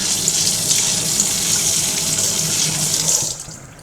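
Fresh coriander is rinsed under a running kitchen tap, a loud, close, steady splash of water into the sink that cuts off near the end.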